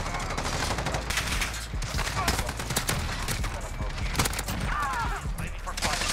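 Rapid automatic fire from an AN-94 rifle in Call of Duty: Modern Warfare, loud sustained bursts of shots with shell and mechanism clatter filling the whole stretch, while a player talks over it.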